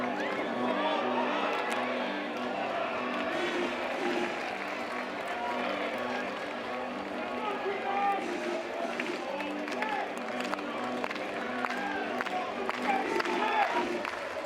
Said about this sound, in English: This is the most energized we've heard this North Carolina fan base over the last couple of innings.